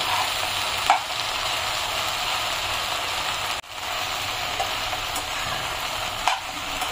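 Okra (bhindi) sizzles steadily in a pan on a home kitchen stove, a constant hiss with a few soft stirring clinks and one brief break partway through. No one speaks.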